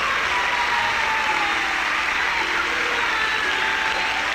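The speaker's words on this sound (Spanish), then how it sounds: "denle un aplauso al Señor" A church congregation applauds during a sermon, a dense, sustained wash of clapping that stays fairly loud and even, with no talk over it.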